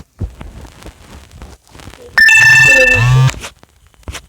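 A mobile phone rings loudly and close, with a bright electronic ringtone lasting about a second before cutting off, between quieter bits of handling noise and soft sounds in a room.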